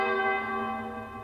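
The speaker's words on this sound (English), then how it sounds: "the bells of recognition are sounding again" A single church bell strike used as a sound effect in a podcast: a bright, ringing toll with rich overtones that decays steadily over about a second, alone without talk.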